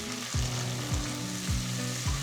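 Sliced onion, crushed garlic, slit green chillies and curry leaves fry in a pan for red lobia rice, a steady sizzle with a low swooping scrape of stirring repeating about every half second.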